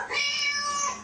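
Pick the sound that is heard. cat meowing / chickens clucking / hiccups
cat meowing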